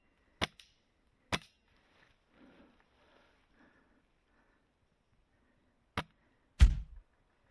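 Airsoft sniper rifle shots in a forest come as four sharp, isolated cracks, widely spaced in a quiet outdoor setting, with faint rustling between them.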